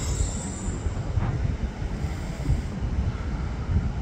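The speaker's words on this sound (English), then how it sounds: "Have another race across the viaduct. It's between a cross-country Voyager and a Northern 156." A CrossCountry Voyager and a Northern class 156 train cross Stockport viaduct side by side, heard as a steady low rumble of wheels and engines from some distance, mixed with wind buffeting the microphone.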